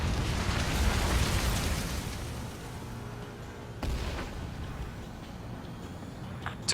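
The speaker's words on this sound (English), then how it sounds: "Mage 2, missile away." A missile launches from a fighter jet in the air-combat game Ace Combat 7, heard as a sudden sharp whoosh cutting through loud, constant engine and wind roar.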